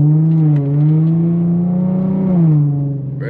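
An Infiniti G37 fitted with Stillen Gen 3 intakes, its engine and exhaust droning loud and close in a steady low tone that rises and falls gently with throttle.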